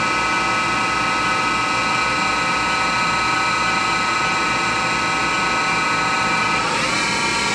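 The spindle of a Haas VF0 vertical machining center runs steadily toward 3,000 RPM with a constant, loud, high-pitched whine and a hum. Near the end the pitch begins to shift.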